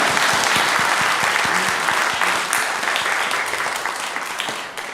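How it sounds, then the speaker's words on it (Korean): Congregation applauding in a church during an afternoon worship service, a loud, dense roomful of clapping that holds steady and then eases off slightly at the close. "함께 영광의 박수 드립시다"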